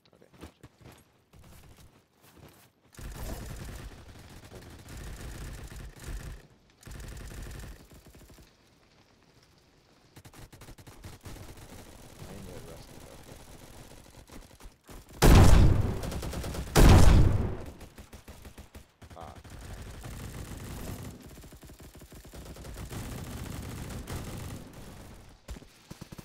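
Sniper rifle and other gunfire in the Roblox-style shooter Bad Business, scattered shots throughout with one loud, heavy burst standing out in the middle among quieter stretches.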